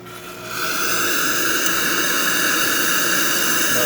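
Hot water streams steadily from the wand of a Rocket Appartamento espresso machine, a continuous close-up hiss and rush that swells in over the first half second and then holds even, with no voices.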